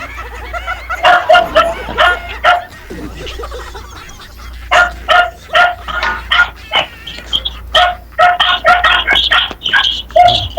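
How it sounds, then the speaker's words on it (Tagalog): Several dogs bark in bursts of repeated, overlapping yaps outdoors, loud and close, with a short lull before the barking picks up again; a rooster or fowl may be mixed in. "Yung mga aso na nag-uusap, hindi tao."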